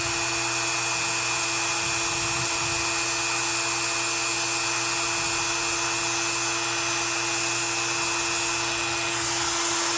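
A pocket knife back spring on a gunstock trapper is sanded with 600 grit abrasive, a steady continuous high whir with faint tonal whine, loud and close, with no pauses.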